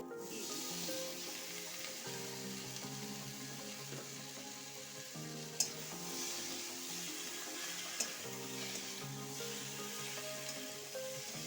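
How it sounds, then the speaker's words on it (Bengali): Vegetables that have already been fried are stirred into a spice masala that has been cooked down in a pan. A steady close sizzle runs throughout, with faint scraping and a couple of sharp utensil clicks, and no talking. "মশলাটা কষিয়ে নিয়েছি এবার সমস্ত ভাজা সবজিগুলো"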